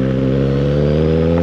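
A Suzuki GSX 750 motorcycle engine revs up while the bike rides on a street with traction control switched on. The tone is a loud, close, rising harmonic drone that holds steady with no voices.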